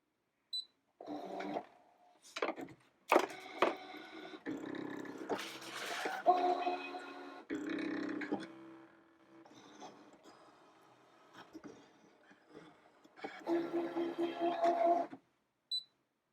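A Brother ScanNCut DX cutting machine works through a sheet of vinyl, giving off intermittent whirring and buzzing motor runs with short pauses between passes, close by and fairly quiet.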